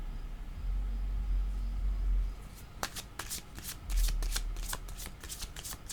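Tarot cards are shuffled close to the microphone in rapid riffling bursts, with softer handling and low thumps in between.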